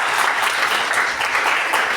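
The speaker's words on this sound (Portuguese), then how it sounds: "salva de palmas, pessoal" A room full of people applauds during a panel with former students, a short, dense and steady burst of clapping heard close and loud.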